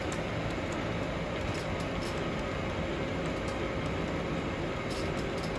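Model train rolling along a large club layout pulling a long string of cars, a steady continuous rumble and hiss throughout with faint clicks, no talking.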